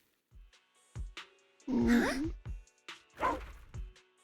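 A dog in the video game Zenless Zone Zero gives several short, sharp yips and barks spread across a few seconds, close and fairly loud, with a voice speaking between them.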